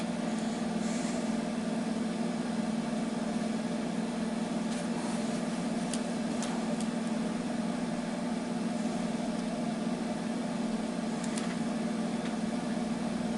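A microwave oven runs on high power while heating soap that expands, a steady low hum with a constant electrical drone and occasional faint clicks and crackles.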